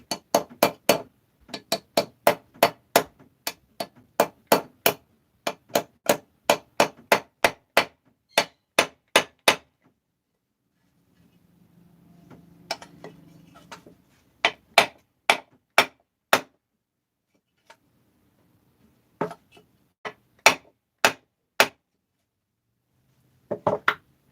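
Steel hammer blows drive a big seal into a powder-coated Stihl 650/660 chainsaw crankcase on the bench, a near, loud run of sharp strikes in steady bursts, a short pause with faint handling noise, then further spaced taps.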